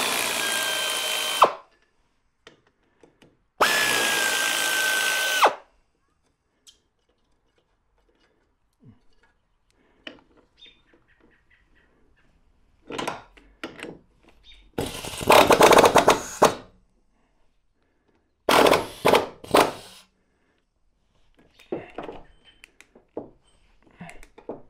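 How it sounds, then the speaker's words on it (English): A pneumatic air ratchet spinning out front strut bolts on a Saab 9-3: several loud, close whirring bursts of one to two seconds each with a steady whine, separated by quiet pauses with small metallic clinks and handling noises. "I'm going to use my pneumatic air ratchet just to get these the rest of the way out"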